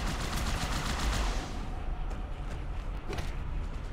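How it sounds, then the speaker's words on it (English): Rapid plasma rifle fire from the video game Halo 2 rattles in a dense, continuous burst for several seconds, loud and close, with energy-weapon crackle throughout. "with the plasma rifle, excuse me, plasma rifle, which is the little blue elite machine gun"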